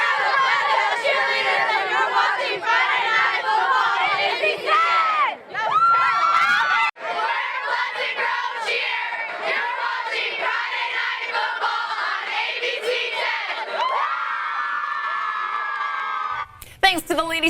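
A crowd and cheerleaders at a high school homecoming football game, with loud sustained cheering, shouting and chanting voices that swell and dip throughout, ending in a brief burst of noise.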